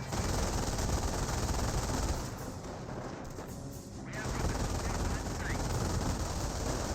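MG42 machine gun fire in Company of Heroes, a dense rattling wash of gunfire and battle noise that dips briefly mid-way before resuming, with a voice talking over it.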